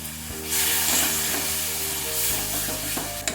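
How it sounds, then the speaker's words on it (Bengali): Spiced masala paste for chole masala sizzles and fries steadily in a pan, with bursts of hissing steam as splashes of water hit it and a spatula scraping through, close and fairly loud throughout. "একটু জলের ছিটে দিয়ে দিয়ে মশলাটা আমি কষিয়ে নিচ্ছি"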